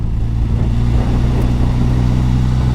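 A Suzuki GSX-S 1000 GT motorcycle from 2022 roars up close and loud, its engine holding a steady, throaty drone at high revs with a constant low rumble and no voices.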